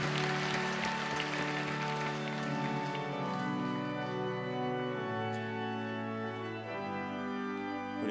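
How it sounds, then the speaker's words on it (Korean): A congregation at a church prayer meeting applauds in a steady, dense patter of many hands that runs the whole way, mixed with sustained keyboard or organ tones. "하나님 아버지께 박수로 먼저 영광 올려드리겠습니다"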